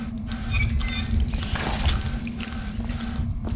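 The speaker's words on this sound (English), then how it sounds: "We're gonna give you a bath in here." Water splashing and dripping in a video game as a fetus is bathed in a tub, with a steady run of wet, liquid sloshing heard close up and continuously, with no talk.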